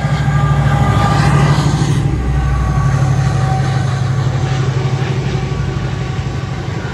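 Freight train running from Lindsay Oil Refinery to Kingsbury Oil Sidings rumbles steadily past, close and loud, with a droning engine and a continuous rolling clatter of wagons throughout.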